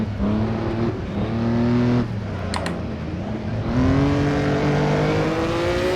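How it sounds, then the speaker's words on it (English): A pack of 1957-era race cars at the Nürburgring in Assetto Corsa, a Vanwall among them, roars past with overlapping engine notes that rise and fall through gearshifts, loud and close, no talking. "And there's the big group of cars."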